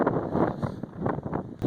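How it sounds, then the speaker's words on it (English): Strong windstorm gusts buffet the microphone at a roofing job, giving a rough, uneven rumble that swells and dips without a break. "It's a little windy"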